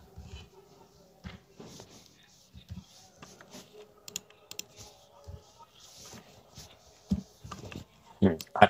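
Scattered light clicks of a computer keyboard as someone types JavaScript code for a Three.js animation tutorial, quiet and irregular, mixed with someone talking.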